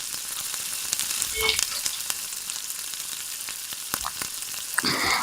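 Chicken fries with a coriander and green chilli masala paste in a pan, a steady close sizzle broken by spatula scrapes and knocks, louder stirring bursts near the end.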